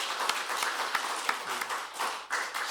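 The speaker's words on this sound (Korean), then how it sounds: "부엌에서 수고하시면서 우리 맛있는 음식 해주시는 분들께 감사의 박수 한번 합시다" A church congregation at a Sunday afternoon service claps to thank the kitchen volunteers who cooked for them. The applause is brief and moderately loud, with scattered individual claps standing out.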